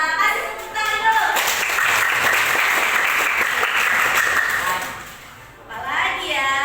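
A classroom of schoolchildren claps in a dense burst for about four seconds, loud and close, with a voice heard before and after the applause.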